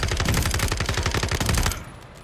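Automatic weapon fire in Call of Duty Warzone 2.0, a loud, sustained rapid burst of gunshots up close that stops abruptly and leaves a fading tail.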